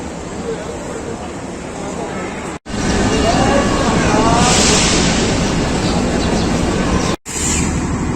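The Farid Express rolls into a station in Pakistan, a steady broad rumble of wheels and carriages close by, with a rushing swell midway and a murmur of voices in the background.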